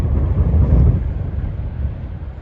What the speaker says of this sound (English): Sorry about the wind, by the way.